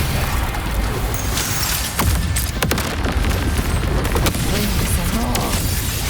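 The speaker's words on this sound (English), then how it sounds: "Another mortar thrown at us." Mortar blasts in the video game Wuthering Waves crash over dense, loud game music and combat noise, with sharp bursts around the middle, and a voice speaks over the din.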